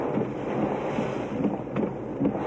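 Strong typhoon wind from Typhoon Nesat (Pedring) roars steadily, with broadband gusty rushing and rumble swelling in several surges over the whole stretch, loud and close with no voices.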